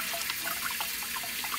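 Water squeezed from an ENJO floor-cleaning fibre splashes and trickles into a bowl of dirty water, a close, continuous dripping and pattering.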